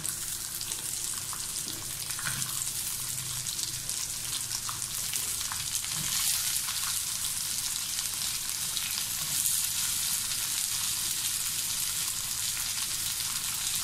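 Shallots sizzling and frying steadily in hot oil in a pan while making a Kerala-style beef fry, a continuous close crackle with faint stirring scrapes.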